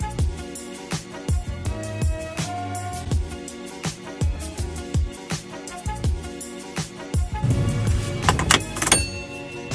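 Someone gets into a Nissan 350Z, with close clicks, rustles, a door thud and a window motor whirring, then a rising rumble near the end, all without talking.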